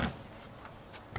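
A pig grunts in a handful of short, snuffling bursts, close and moderately loud, with quiet gaps between them.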